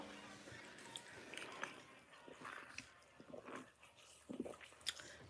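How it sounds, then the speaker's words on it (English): Quiet, wet gulping and mouth noises from a person swallowing close to the microphone, several soft squishy clicks scattered irregularly over a few seconds against a faint background. "That was loud swallowing."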